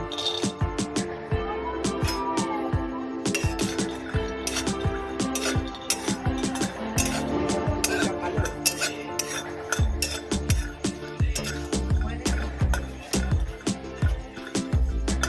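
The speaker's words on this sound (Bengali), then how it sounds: "আমি শুকনো কড়াইতে বাদামটা ভেজে নেব" Peanuts dry-roast in a hot, dry kadai, rattling and scraping under a spatula in quick, irregular bursts of clicks and metallic clatter, close and continuous for the whole stretch, with a faint voice now and then.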